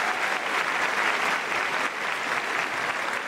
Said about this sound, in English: Round of applause for fabulous shows